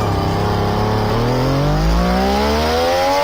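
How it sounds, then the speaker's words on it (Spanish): A motorcycle engine revs up close and loud, its pitch climbing steadily as it accelerates, with no voices. "No, eso es una moto."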